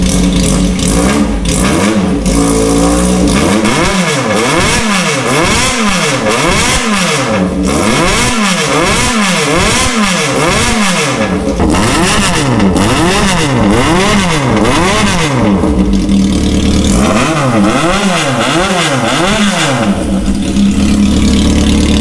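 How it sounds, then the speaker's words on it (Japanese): A Yamaha XJ400 motorcycle fitted with a prototype custom muffler revs repeatedly, loud and close, in rhythmic blips that rise and fall over a steady idle. "じゃあこれがペケ J の400ですね、ということでマフラーの方もめちゃくちゃいい音しましたね。"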